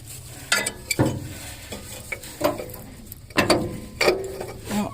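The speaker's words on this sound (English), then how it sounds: "got a pipe wrench on the crank, and it just don't want to move" A pipe wrench strains against the crankshaft of a seized engine in a 1951 Ford F100 that sat for years: irregular metallic clanks, clicks and scrapes in uneven bursts, close by, with no voices.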